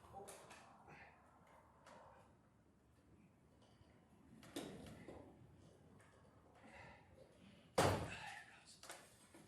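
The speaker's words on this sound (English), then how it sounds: "Door shut." Quiet shuffling and faint movement, then a door shuts near the end with a single sharp slam and a brief rattle.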